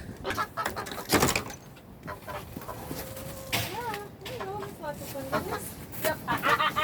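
Several chickens cluck and squawk close by in irregular bursts, with a person speaking intermittently among them.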